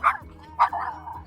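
Dogs at a dog park bark and yip in a few loud, close bursts, followed by a softer whimpering whine.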